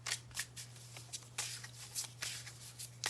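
Tarot cards being shuffled by hand in repeated riffling bursts, close and fairly quiet, over a steady low electrical hum with no talking.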